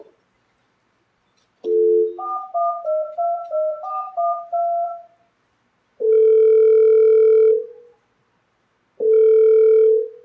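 A landline telephone in a stage comedy set is dialed with a quick run of key tones, followed by two long, steady dial or ringback tones separated by a pause, clear and close with no talk over it.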